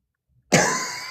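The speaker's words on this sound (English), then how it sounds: "I didn't want to cough in their ear," One sharp cough breaks out of silence, a loud close burst that tails off over the following half second.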